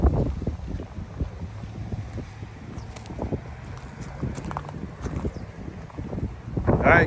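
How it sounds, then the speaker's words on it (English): Outdoor wind buffets the microphone in a residential neighborhood, a loud, continuous low rumble with gusts that swell near the start and the end. "Sorry about the wind, but here it is."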